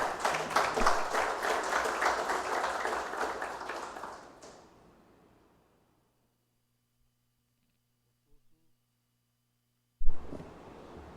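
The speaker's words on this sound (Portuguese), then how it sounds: "Uma salva de palmas." An audience at a formal council ceremony gives a few seconds of steady applause that fades out, then silence, and a brief clap or knock returns at the end.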